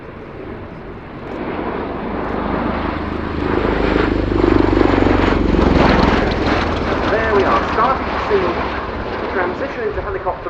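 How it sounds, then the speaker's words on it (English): A USAF Boeing CV-22B Osprey tiltrotor flies past at the RIAT 2019 airshow while transitioning into helicopter mode, its big nacelle-mounted rotors giving a loud, steady, throbbing roar that swells through the middle of the pass. "Transition into helicopter mode with those rotors in those huge nacelles tilting."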